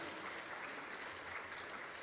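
Audience applause at a regional government awards ceremony in Papua, greeting the Deputy Minister of Home Affairs; steady, moderately distant clapping throughout, fairly faint and even.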